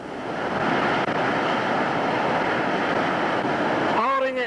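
Class 5 whitewater rapid on the Gauley River roars loud and continuous as a raft runs it, a broad steady rush of churning water, with a brief vocal sound near the end.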